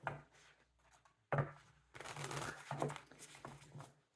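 Tarot cards are shuffled close by with soft riffling and papery flutters in quiet bursts, separated by brief pauses.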